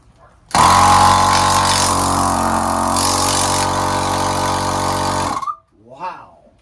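A VEVOR 12V portable tire inflator air compressor, rated at 150 psi and 6 CFM, is powered from an AGM battery. It switches on abruptly and runs as a loud, steady motorized drone for several seconds, then cuts off, and a voice follows.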